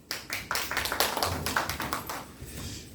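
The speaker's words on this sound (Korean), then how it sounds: "박수 한번 쳐주세요." A small audience at a civic education talk claps in a short burst of distinct, fairly close hand claps that start quickly, then thin out and fade within a few seconds.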